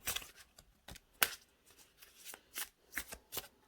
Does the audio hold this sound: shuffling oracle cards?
yes